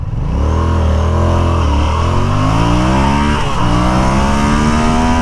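A Yamaha XSR motorcycle accelerates hard from a standstill, loud and close, its engine note climbing through the gears with brief dips at each shift.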